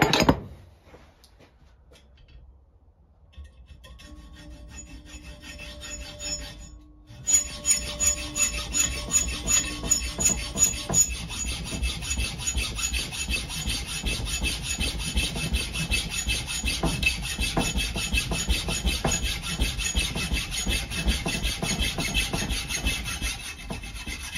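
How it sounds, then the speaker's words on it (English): A hacksaw cuts through metal for a rear bumper build, starting after a few quiet seconds and settling into a steady, close, rhythmic rasp of back-and-forth strokes that runs on alone. "a hacksaw will cut through this actually pretty quick with no issues"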